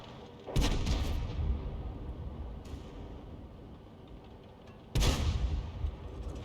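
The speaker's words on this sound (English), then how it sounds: "He's lining up the shot for the T150 now." Two heavy, booming cannon shots from a Lorraine 155 artillery gun in a tank video game, each a sudden loud blast followed by a long rumbling decay.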